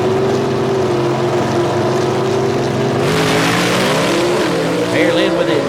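Big-block gasser drag race cars at Mooresville Dragway: loud, close engine drone with a steady low harmonic hum, rising into a rougher, brighter revving roar partway through and swelling near the end.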